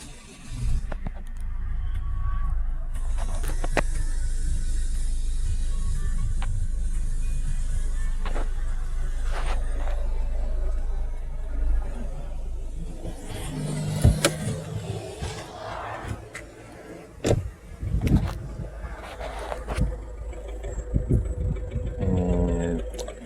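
A 2018 Ford Kuga starts with a push button and settles into a steady idle, a low continuous engine hum heard up close, later mixed with clicks, thumps and handling noises.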